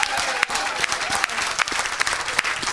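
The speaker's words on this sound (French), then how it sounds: "Donne une bonne acclamation à ton Dieu." A church congregation applauds and cheers steadily, dense clapping filling the space with a few sharper claps standing out, loud and close, no speech over it.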